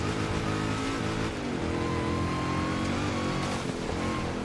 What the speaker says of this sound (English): But from the inside, you can hear the supercharger whine.